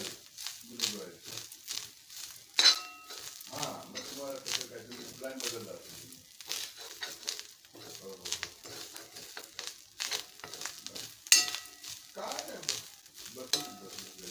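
Grated coconut dry roasting in a pan, with intermittent scraping and crackling stir strokes close by under a woman's speech, which runs through most of the stretch.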